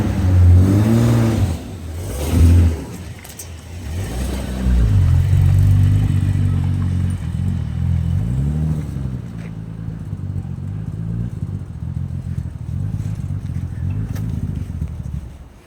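A Nissan 300ZX with a twin-turbo swap rolls out of the garage for its first drive, the engine revving loudly in rising surges and then settling to a steady close rumble.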